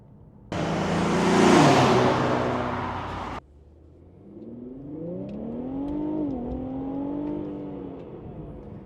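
Infiniti Q50 Red Sport AWD fitted with an AMS intake accelerating hard, a loud broadband engine roar lasting about three seconds, then a quieter interior drone with rising and falling gear-shift harmonics.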